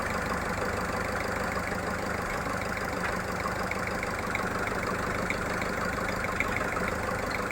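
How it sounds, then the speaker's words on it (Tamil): A used car's engine idles roughly and shakes badly, with a broken engine mount bolt. It makes a continuous loud, even rumble with a faint knocking texture and no voices. "ரொம்ப மோசமாக என்ஜின் ஷேக் ஆகுது."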